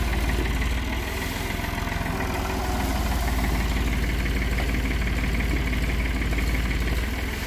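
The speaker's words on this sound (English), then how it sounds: "We're gonna try to pull it down with the tractor." A tractor engine labors loudly and steadily at close range while pulling on a partly sawn, split hickory tree, a constant low drone with a knocking vibration and no talk.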